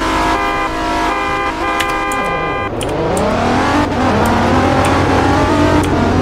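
A 2017 Nissan 370Z roars hard through a drag race launch, the engine note climbing, dropping at a shift, then climbing again, loud and close throughout.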